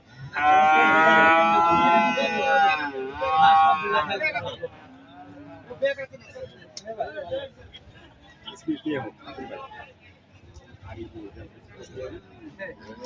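A newly bought cow lets out a long, loud moo up close, followed by a shorter low call, then people chat nearby over outdoor background noise.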